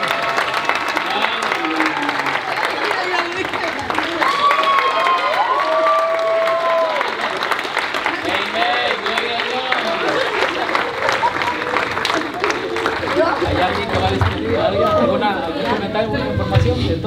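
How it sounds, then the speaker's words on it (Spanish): Wedding guests applaud the newlyweds at the ceremony, sustained clapping mixed with cheers, shouts and crowd chatter, with voices rising over the applause throughout. "Un aplauso a los novios."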